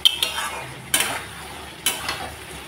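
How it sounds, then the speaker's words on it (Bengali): Pea lentil fritters being stirred into spice masala in a pan, with a few sharp metal spoon knocks and scrapes spaced about a second apart over a low background, close by and with no voices. "মশলার সাথে আমি কষিয়ে দিচ্ছি।"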